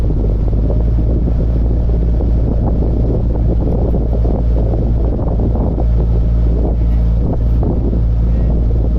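Strong wind buffets the microphone in a steady, roaring rumble aboard a narrowboat on the tidal River Thames, with a low engine drone underneath throughout.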